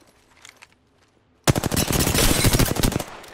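R-301 rifle gunfire in an Apex Legends style shooter game: after a quiet start with faint sounds, a loud sustained burst of rapid automatic fire erupts midway and continues close and steady to near the end.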